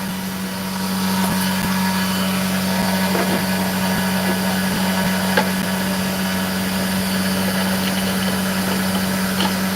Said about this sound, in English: These are Dremels